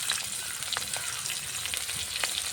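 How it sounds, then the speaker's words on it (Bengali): Green chillies, cumin seeds and onion sizzle and crackle in hot oil in a kadai, a steady dense frying hiss with small pops, close and even throughout. "কড়াই তেল দিয়ে দিলাম এখন দিব কটা কাঁচা ঝাল জিরা পেঁয়াজ জিরা"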